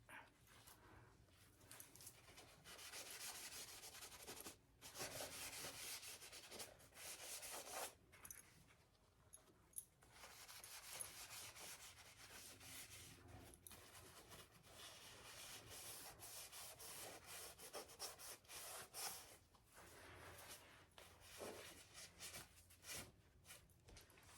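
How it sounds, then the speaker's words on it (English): Wax being rubbed by hand onto a piece of thrifted wooden furniture makes faint, repeated scrubbing strokes in bursts, with short pauses between passes. "we're going to take our wax and we're going to go over it"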